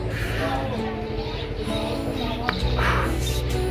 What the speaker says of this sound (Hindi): धूप उगने के कारण से ये सब चिहचहा रही हैं चिड़ियाँ